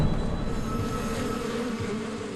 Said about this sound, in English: Bees only become airborne and active within a certain temperature window, depending on the species.